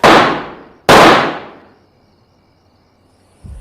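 Two sharp gunshots in a film, loud and close, the second following under a second after the first, each ringing out into a fading tail before a faint thud at the end.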